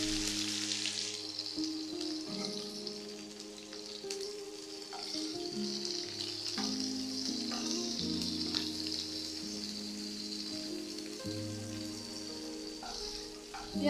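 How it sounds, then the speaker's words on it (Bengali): Three medium onions, thinly sliced, sizzle in oil in a pan with small-cut eggplant for a lote fish chochchori; a steady, even frying hiss runs throughout under tonal background music. "এই পেঁয়াজ আর বেগুনটা ভাজা হচ্ছে"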